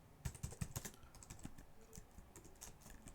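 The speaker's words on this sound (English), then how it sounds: "try and type correctly" Keys clatter on a computer keyboard as Java code is typed, starting with a quick run of sharp, close clicks that then turns into lighter, scattered taps.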